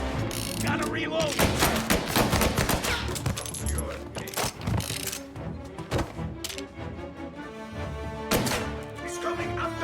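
Gunfire in the video game Mafia Definitive Edition, with rapid bursts of shots and sharp cracks over a busy, dense game soundscape, loud throughout and layered with mechanical clatter.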